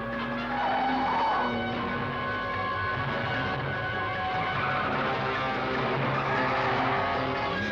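A 1970 car skids in a controlled slide with brakes tampered with, tires squealing in long wavering tones over engine noise, loud and sustained throughout.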